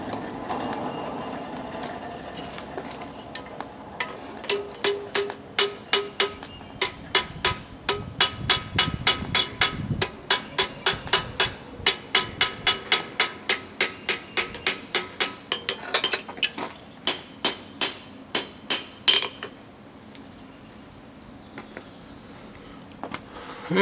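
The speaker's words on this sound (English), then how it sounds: "A little bit more forging to find that right angle, and then we'll cut it off." A hammer forges a square corner in steel flat bar with a long run of regular ringing blows that begins sparse, settles into a steady rapid rhythm for about fifteen seconds, then stops.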